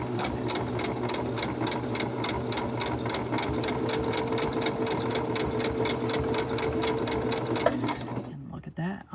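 A sewing machine stitching rope into a rope bowl runs steadily with a fast, even stitching rattle, close and continuous, stopping abruptly near the end.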